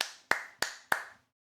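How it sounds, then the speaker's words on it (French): Four crisp, evenly spaced claps ring out close up in quick succession, each with a short decaying ring, then silence. "Applaudissements."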